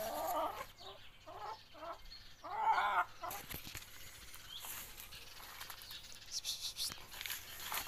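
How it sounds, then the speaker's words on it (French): Hen clucking in a garden, a few soft rhythmic clucks near the start, then quiet rustling outdoor background with faint bird sounds. "Ah, la poule."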